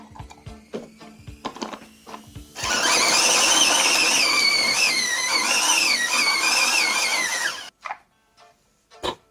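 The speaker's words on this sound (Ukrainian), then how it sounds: "Кладемо цибульку в наш портативний подрібнювач." A portable electric chopper whirs loudly and steadily for about five seconds as it chops onion, after a few clicks of the lid being closed, then cuts off and leaves brief knocks.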